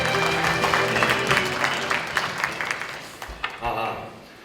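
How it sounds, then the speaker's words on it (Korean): Audience applause welcoming a speaker onto a stage at a marine industry lecture event, moderate clapping mixed with background voices that fades out toward the end. "큰 박수로 시작하겠습니다."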